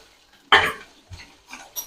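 Spoon scraping and clinking in a pan while stirring tempering of asafoetida, curry leaves, chilli pieces and ginger paste for farali khichdi; a sharp clatter followed by a few lighter scrapes and taps, close and without talk.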